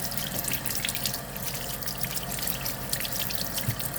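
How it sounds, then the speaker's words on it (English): Bananas being rinsed under a running kitchen tap, a steady close stream of water splashing and trickling continuously throughout with no talk. "When you get home, wash the ripening agent"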